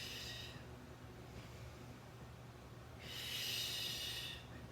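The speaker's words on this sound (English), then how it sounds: "Inhale, and exhale." Slow, deliberate breaths during a vinyasa yoga flow, with an airy inhale and a longer exhale a few seconds apart, soft and near against a quiet room.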